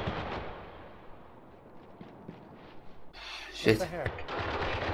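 Gunfire in a Spec Ops: The Line multiplayer team deathmatch: a burst of shots and impacts rings out in the second half over a steady game background, with a player briefly swearing.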